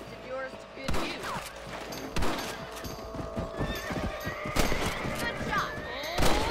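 Gunfire in the Red Dead Redemption video game rings out as several sharp shots spaced a second or more apart, mixed with horse whinnies and clip-clopping hooves in an outdoor scene, with speech now and then.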